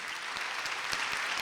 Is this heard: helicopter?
no